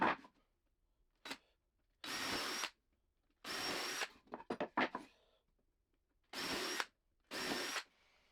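Power drill driving 2-inch wood screws into 2x4 boards, five separate bursts of whirring about a second long each, close and loud, with quiet pauses between and brief rattles around the third burst.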